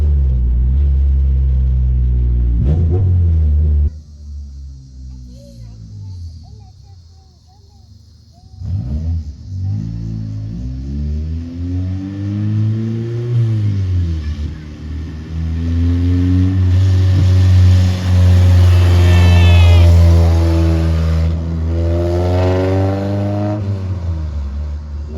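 A Honda Civic with a swapped B20B engine drives along, its engine droning and rising through several long revving pulls, loud and close from inside the car, with a quieter dip partway through.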